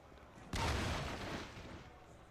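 A grenade explodes during a video game speedrun, one sudden low boom that bursts out and then fades in a rumbling tail over about two seconds, fairly quiet overall and with no talking.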